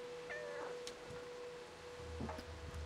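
A cat gives a couple of thin, faint meows against a quiet room with a steady electrical hum and a low thump near the end.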